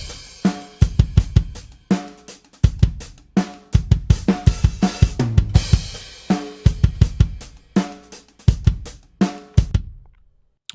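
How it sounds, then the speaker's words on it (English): Rock drum kit playback with the sampled snare muted, leaving the recorded snare, kick and cymbals in a steady driving groove, loud and punchy with regular hits over about ten seconds and no voices. "let's listen to the drums without the sample snare in there"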